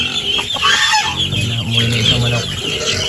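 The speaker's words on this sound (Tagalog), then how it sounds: "Umuwi na isang manok." A farmyard chicken clucks close by in a short series of low, throaty calls with other faint bird sounds around it.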